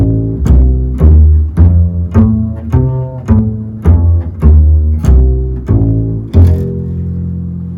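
Bass guitar arpeggio played through a chord shape, a run of about a dozen distinct plucked notes stepping up and down at a steady moderate pace, the last note sustaining, full and close with no voices.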